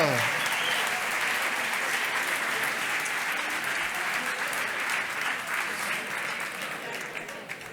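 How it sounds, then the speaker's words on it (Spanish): Applause fills a lecture hall at a university conference, a dense continuous clapping from a large audience that holds steady for several seconds and slowly tapers, with faint voices mixed underneath. "Un aplauso."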